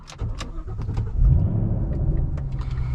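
A stock-exhaust 2014 Ford Shelby GT500 with a different intake filter and resonator delete cranks and fires up, settling into a loud, close, steady rumbling idle.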